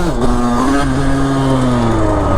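A motorcycle accelerates hard in second gear to lift into a wheelie, its engine note a loud, close, steady rising drone that climbs in pitch over a couple of seconds.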